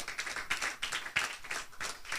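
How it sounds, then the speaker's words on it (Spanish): A church congregation claps in praise at a Spanish-language service, with several loud bursts of clapping from a crowd heard at moderate distance over about two seconds. "Bríndele ese aplauso de alabanza a nuestro Señor Jesucristo."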